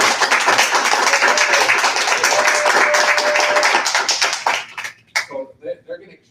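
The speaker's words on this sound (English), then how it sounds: "Let's give Dr. Child an applause." An audience at a talk on Indian boarding school history claps warmly for several seconds, then the applause thins into a few scattered claps and fades toward silence.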